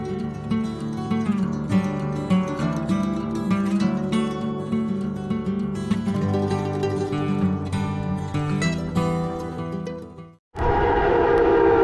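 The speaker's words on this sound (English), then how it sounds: "That's what a train looks like at 80 mile an hour." A train racing past at about 80 miles per hour, a loud sustained roaring rush with a horn-like tone that cuts off abruptly near the end, followed by a different steady noise.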